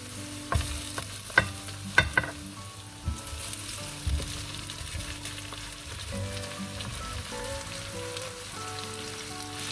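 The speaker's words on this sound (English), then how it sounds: "My onions are translucent, and I will add my furray now." Onions and farrey fry and sizzle in a pan, a steady crackle broken by a few sharp clinks and scraping stirs early on, close and with no talking.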